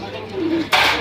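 Large Kaldom pigeons at a busy pigeon market give a brief soft coo, heard close amid crowd murmur, followed by a sudden burst of noisy hiss.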